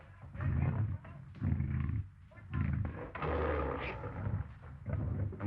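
Lion roars in a 1934 jungle adventure serial, several loud rumbling bursts spaced about a second apart, close and dominant with no talk over them.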